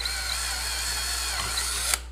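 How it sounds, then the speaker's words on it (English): A power drill bores holes while a pedal board power supply is being built, giving a continuous whirring, ratcheting whine for about two seconds at moderate level that ends on a sharp click. "watch some moron drill holes"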